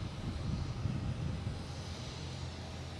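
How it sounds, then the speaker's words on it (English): A Lufthansa airliner taxis at Boston Logan toward the international terminals, its jet engines giving a steady distant rumble and hiss that swells slightly and then holds level, with no voices. "And Lufthansa's heading back to the international terminals."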